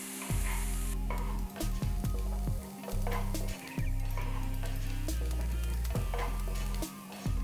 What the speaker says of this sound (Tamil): இதெல்லாம் போட்ட பிறகு வெங்காயத்தை நல்லா வதக்கணும்